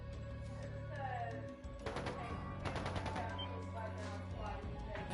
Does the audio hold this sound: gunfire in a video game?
yes